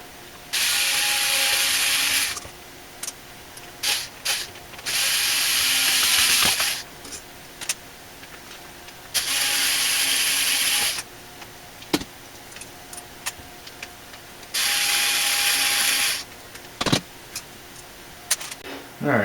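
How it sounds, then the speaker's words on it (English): A ratchet tool clicks in rapid bursts while a CPU water block is loosened inside a PC build, with four loud close runs of ratcheting separated by quieter handling clatter and small knocks. "We're going to take the CPU block loose."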